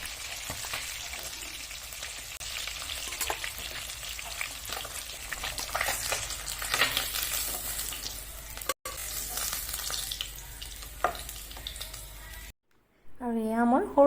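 Pieces of rohu fish seasoned with salt and turmeric fry in hot oil with a steady, loud sizzle that fills the scene. A voice talks over it, and near the end the sizzling stops briefly.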